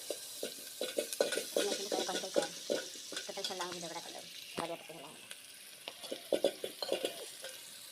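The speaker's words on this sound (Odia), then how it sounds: "ଦେଖନ୍ତୁ ଆପଣ ମାନେ ଆମର ତେଲ ପଡ଼ିଗଲା, ପିଆଜ ପଡ଼ିଗଲା।" Sliced onion sizzling in hot oil in a pan, with a steady fry hiss and repeated scraping stir strokes throughout, close and fairly loud, and no talk.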